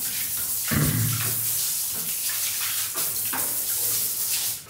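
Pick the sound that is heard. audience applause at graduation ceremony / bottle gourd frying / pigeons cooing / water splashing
water splashing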